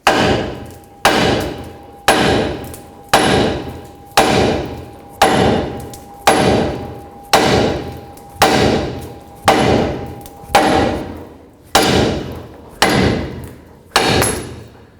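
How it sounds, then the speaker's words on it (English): Heavy metallic hammer blows strike the lower ball joint of a 2007-14 Chevy Silverado at a steady pace, about once a second, each ringing briefly before the next, loud and close with no talk. "you can hammer on this with a hammer, or you can try the air hammer"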